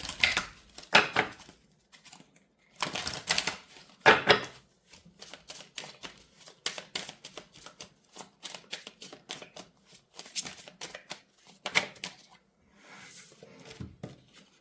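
Tarot cards are shuffled and drawn in a quiet room, giving bursts of riffling and flicking with soft slaps and short gaps between them.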